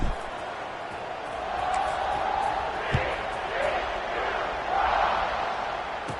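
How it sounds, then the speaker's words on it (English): A large crowd at an American football stadium buzzes after a long touchdown pass, a broad, sustained roar that swells and dips in waves at moderate distance, with an announcer's voice faintly over it. "this crowd is buzzing after that last score"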